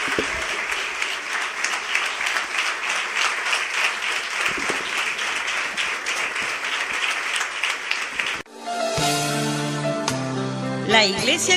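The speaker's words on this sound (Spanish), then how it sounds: "Denle un fuerte aplauso al Señor." A church congregation applauds loudly and steadily for several seconds. The clapping then gives way to instrumental music.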